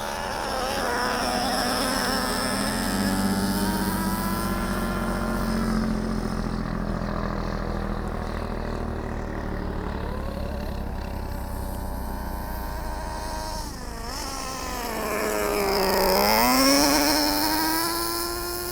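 A Traxxas Revo 3.3 nitro RC monster truck engine whines and buzzes as the throttle is worked, its pitch climbing and dipping in sweeps, with a sharp rev rising near the end; close and continuous, no talk.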